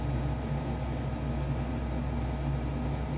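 A Eurofighter Typhoon jet engine in Microsoft Flight Simulator roars as the throttle comes up, a steady, dense, loud drone with a deep low rumble and no pauses.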